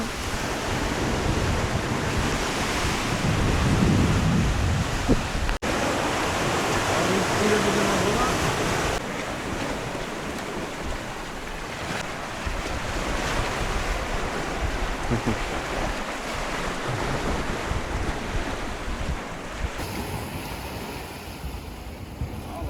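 Sea waves wash onto an empty sandy beach on Koločep island near Dubrovnik, a continuous surging hiss with wind buffeting the microphone and a few faint voices.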